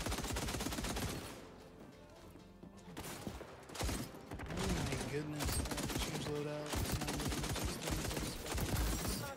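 Attack rifle fire in the online shooter XDefiant: dense, rapid bursts of gunfire crackle almost continuously, with brief lulls between volleys and game effects layered underneath.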